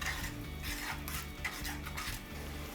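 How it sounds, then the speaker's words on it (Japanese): Spaghetti simmers in a butter sauce for cacio e pepe over high heat, with faint bubbling under light clinks and scrapes of a utensil against the pan. "で最後は強火でソース炊いていく。"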